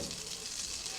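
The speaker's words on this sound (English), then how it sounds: "So as my butter is starting to melt" Butter melting in a pan on medium-low heat gives a steady, soft hiss and crackle of sizzling, continuous and close for a brief moment.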